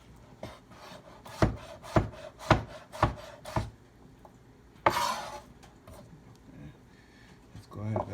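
Sharp knife cutting on a wooden board in a home kitchen, five evenly spaced firm taps followed by a single heavier chop and some scraping, close and clear.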